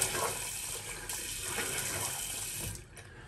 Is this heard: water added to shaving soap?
yes